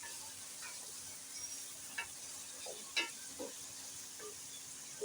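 Chicken, potato and cauliflower stalks frying in curry masala in a pan make a soft, steady sizzle, broken by a few faint scrapes and taps of a stirring spoon, with no talking.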